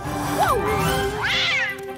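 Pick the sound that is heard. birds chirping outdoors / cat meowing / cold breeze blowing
cat meowing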